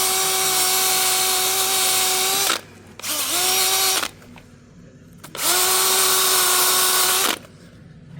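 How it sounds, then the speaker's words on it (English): Power drill whirring loudly in two long bursts with a nylon or steel bristle brush scrubbing concrete, pitch dipping as it spins down between runs. "you can use a nylon bristle or steel bristle on a drill"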